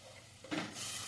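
A short burst of sizzling and hissing as mint masala fries in a hot pan, with a faint stirring scrape midway, close and moderately loud.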